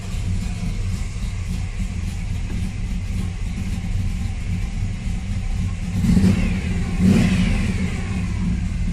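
A carbureted car engine with a cam runs steadily at close range in a low, continuous drone, swelling into two brief revs near the end.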